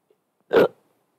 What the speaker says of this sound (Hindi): बहुत ज्यादा हिचकी आ रही